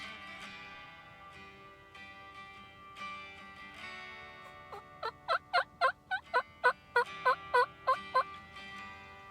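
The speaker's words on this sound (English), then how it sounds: "we had heard the gobbling down the hill across from us" Wild turkey gobbling outdoors, a quick series of rattling, pulsing gobble notes repeated about a dozen times after softer calls, fairly faint and distant with no talking.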